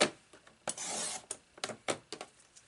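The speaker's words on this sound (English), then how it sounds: "So let me just trim this." Paper being trimmed to three-quarter inch for a note pad cover: a run of quick rasping cuts and slides, close and crisp, with one longer stroke among short bursts and brief taps.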